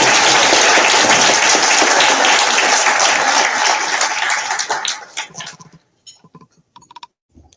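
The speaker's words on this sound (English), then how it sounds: "let's have a round of applause and appreciation for bringing" An audience at an annual scholarship awards event breaks into loud, dense applause that thins out after about five seconds into a few scattered claps before fading to near quiet.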